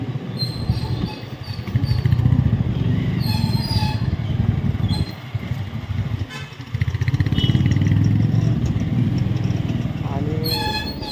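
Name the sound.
Bullet motorcycle engine while riding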